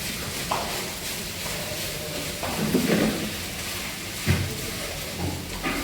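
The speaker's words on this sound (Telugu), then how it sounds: "కిస్మిస్, నెక్స్ట్ ఈ ఆల్మండ్స్ వేస్తున్నాను." Raisins and almonds tumble into a frying pan for semiya payasam, with a steady low sizzle and a few soft knocks and clatters as the nuts hit the pan.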